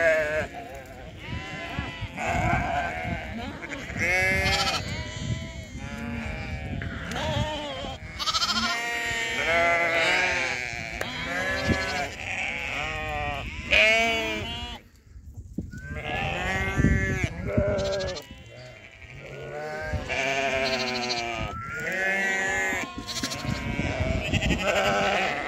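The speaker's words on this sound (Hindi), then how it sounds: "देखो इनकी भेड़ बकरियाँ कैसे आ रही हैं दौड़ती हुई" A large flock of around 500 sheep and goats runs toward a shepherd in a jungle, called in for salt. Dense, overlapping bleats rise and fall continuously, near and loud, with brief gaps.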